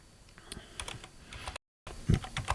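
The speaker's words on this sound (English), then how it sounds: "let's go ahead and type our basic prompt idea" Rapid, close clicking of keys on a computer keyboard as a short prompt is typed, irregular taps with a brief silent gap before a final burst and a heavier thunk.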